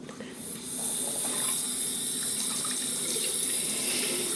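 Tap water runs steadily into a sink as hands are rinsed after a nail-care cream, a continuous close splashing flow that swells after the first second and stays even.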